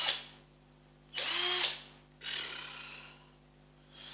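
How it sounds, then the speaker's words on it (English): Power drill with a somewhat blunt bit boring into wood during a double-neck guitar build: two loud bursts of whining drilling, the second longer and tailing off, separated by quiet pauses. "I think the drill bit in that is a bit blunt"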